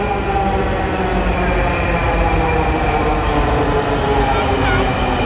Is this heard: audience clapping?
no